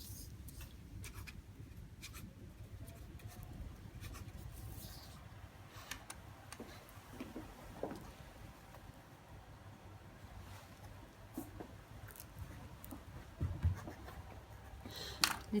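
A pen scratches across paper as two documents are signed at a formal civil ceremony, with faint, intermittent strokes over a low hum of room noise and no talking.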